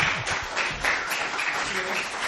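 Lecture audience at a talk on psychedelics and the paranormal gives a steady wash of applause, dense and moderately loud, with a voice faintly under it.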